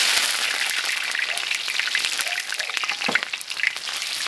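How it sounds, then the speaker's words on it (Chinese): Ginger and garlic sizzle hard in hot oil in an iron wok, a loud, steady, crackling fry with occasional scrapes and stirring clatters throughout. "铁锅烧肉，加入油，1碗的姜蒜"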